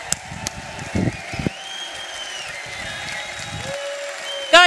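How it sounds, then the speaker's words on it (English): Sustained crowd applause fills the whole stretch, steady and dense, with a few louder claps and faint whistles rising through it. "round of applause. Come on, stand up, folks,"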